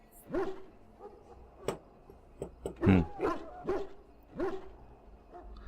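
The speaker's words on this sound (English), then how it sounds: "This is a Mabari, smart breed and strong." A Mabari war hound in the game Dragon Age Origins barks and yips repeatedly in short sharp bursts, fairly close, with brief whimpering tones between barks and faint background game sound.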